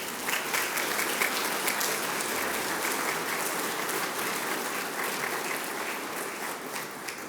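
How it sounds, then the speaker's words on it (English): A crowd applauds at the opening event for the Bendigo Law Courts, a broad, even wash of clapping that holds steady throughout at moderate distance. "Can we please give them a big round of applause as well?"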